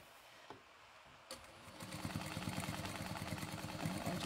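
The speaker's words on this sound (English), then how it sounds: "when it actually works, like when the machine's running, it actually fills up the bobbin" A sewing machine starts up after a couple of soft clicks and runs steadily while winding the bobbin, a fast even mechanical whir with a regular rapid pulse, close by and moderately loud.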